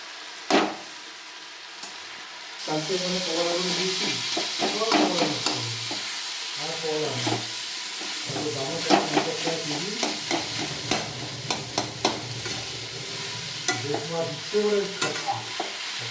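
Ginger tossed into hot oil for a Bengali fish oil dish, sizzling steadily while a utensil scrapes and stirs the pan in repeated strokes, close and clear with no talking.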